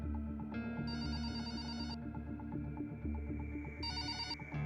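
A telephone rings in a Hindi audio drama, a steady electronic ring with bright chiming bursts repeating twice, loud and close with no talk over it.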